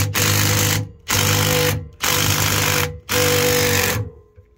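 A power wrench loosens nuts on heavy-duty work, firing four loud, close bursts of rattling hammering whine, each about a second long, separated by brief pauses.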